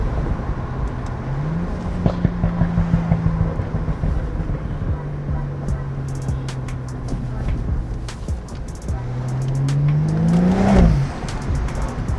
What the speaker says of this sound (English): Just driving to the spot now anyways.